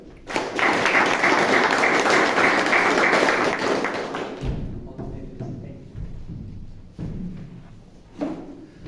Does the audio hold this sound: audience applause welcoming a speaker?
yes